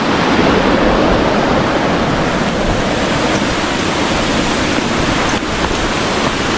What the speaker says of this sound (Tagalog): oh, malit na waterfalls